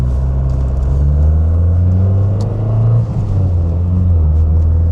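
A Ford Sierra Cosworth engine holds a steady, loud, deep rumble close by, with a slight swell in revs partway through and no talk over it.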